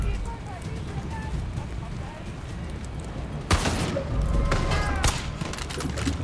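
Shotgun blasts ring out in the Far Cry 5 video game, one loud sudden shot followed by further bursts and sharp impacts, heard over a continuous background of game noise.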